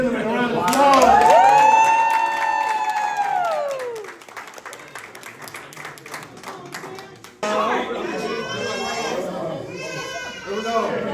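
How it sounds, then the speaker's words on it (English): Applause and cheering from a crowd honoring a young point guard at a basketball season-ending game award, loud for about four seconds under an announcer's voice, followed by quieter chatter and a person talking. "Players, please give this young gentleman a round of applause."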